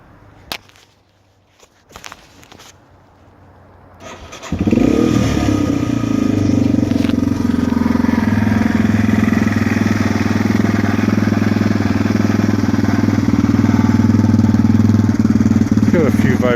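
Yamaha TW200 motorcycle engine cranks briefly, then catches around four seconds in and settles into a loud, steady idle with some vibration rattle, continuing alone to the end.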